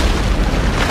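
A grenade blast sound effect: one heavy, close, very loud boom with a broad rumbling burst that fills the whole short moment and has no voices over it.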